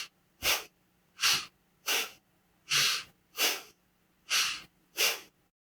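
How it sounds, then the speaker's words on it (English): Yoga bellows breathing: seven sharp, forceful exhales through the nose come in a steady, evenly spaced rhythm, each a loud, close, breathy burst with quiet gaps between. "in the yoga world, we call this bellows breathing"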